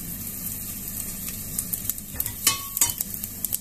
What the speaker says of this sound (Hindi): हींग जीरा डाल देंगे।